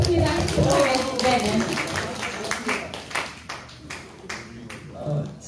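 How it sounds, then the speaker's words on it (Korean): An audience claps hands at a talk, a loud burst of applause mixed with talking at the start, thinning into scattered individual claps toward the end. "박수 한번 다시 한번 하겠습니다"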